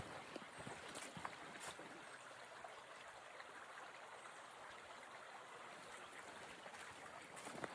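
Soft, steady rushing of a stream and waterfalls along a forest hiking trail, a faint continuous wash with occasional small splashes.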